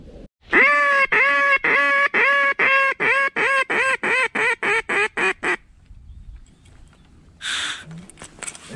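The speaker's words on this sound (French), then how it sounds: "Canard colvert." A mallard duck quacks during a Minnesota youth waterfowl hunting opener, giving a rapid, loud run of about a dozen nasal quacks. The calls then stop, leaving quiet outdoor background with a brief faint noise near the end.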